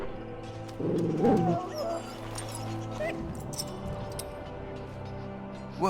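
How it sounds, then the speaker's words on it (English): A hound in Dragon Age: Origins, sick after swallowing Darkspawn blood, lets out a burst of pained whines and whimpers over low, steady ambient tones, then quieter whimpering trails off. "the poor hound swallowed Darkspawn blood"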